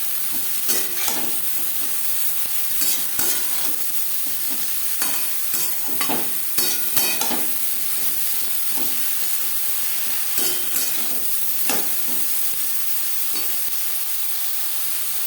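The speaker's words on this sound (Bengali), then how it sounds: "ভাজা পেঁয়াজ ও কাঁচা লঙ্কার সাথে বেগুন বেশ ভালো করে মিক্স করে দেবো।" Eggplant pieces are stirred and fried in a pan with onion and green chilli: clusters of loud spatula scrapes and clacks over a steady sizzle, recurring in bursts.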